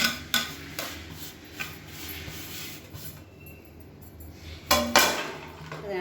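A spatula scrapes and taps against a pan while black kavuni rice flour is dry-roasted, giving a few sharp clinks over a low, steady background.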